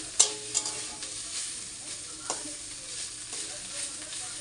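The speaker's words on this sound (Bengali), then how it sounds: "আর অনেকদিন পরেই থোর ভাজা হচ্ছে" Chopped banana stem fries in a pan with a steady, soft sizzle, broken by a few sharp utensil scrapes and taps as it is stirred near the start.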